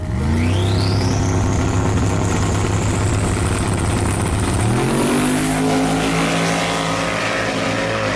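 Engine roar of a small Falcon no-prep drag race car launching hard from the stage line: a loud, close, rising rev that climbs steadily and then shifts to a higher pitch as it pulls away, with no voices.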